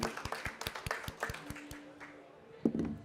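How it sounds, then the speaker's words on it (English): Sparse audience applause for speakers at a governance conference: a small group claps in quick, distinct, fairly close hand strikes that thin out toward the end, then a brief voice cuts in. "I would like to have a round of applause for the speakers before"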